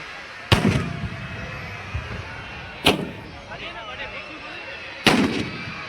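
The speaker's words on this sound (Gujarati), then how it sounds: "અત્યારે ફટાકડા પણ હોય છે મસ્ત ફૂટી રહ્યા છે" Three sharp, loud firecracker bangs burst a couple of seconds apart at a Ravan Dahan celebration in Bhavnagar, each echoing briefly, with faint voices and crowd murmur between them.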